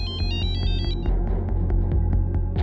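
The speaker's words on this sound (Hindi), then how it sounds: "मेरे फोन की घंटी बजी थी" A mobile phone ringtone at night, loud and close, a repeating electronic melody of bright bell-like tones pulsing in a steady rhythm over a low throbbing beat, with no voices.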